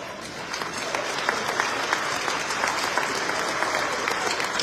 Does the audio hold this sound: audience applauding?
yes